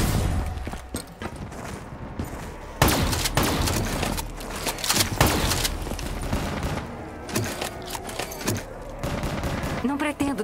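Gunfire from Black Ops 3 Zombies on the Shadows of Evil map: bursts of automatic weapon fire and repeated shots crack out in clusters, mixed with game effects and the occasional voice.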